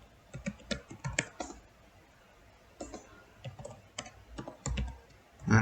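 Irregular bursts of keystrokes on a computer keyboard while a script is written, quick clusters of clicks separated by short pauses, fairly close and alone with no talk.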